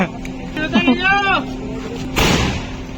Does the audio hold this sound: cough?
no